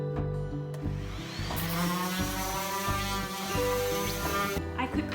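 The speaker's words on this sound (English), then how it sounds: "I'm just sanding everything with my electric sander here" An electric sander works over a wooden bookshelf with a steady, close buzzing whir that wavers slightly in pitch and runs without pause.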